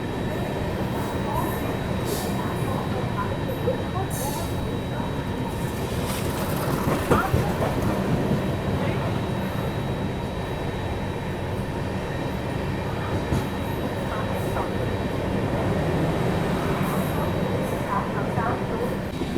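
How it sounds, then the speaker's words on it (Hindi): The Gondia Barauni Express rolls past on the next track while the listener rides on another train, a loud, steady, close rumble of wheels and carriages that lasts the whole time. "देखो बगल से भी अभी कोई ट्रेन क्रॉस हो रही है, गोंडिया बरौनी एक्सप्रेस।"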